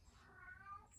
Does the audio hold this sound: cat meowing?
yes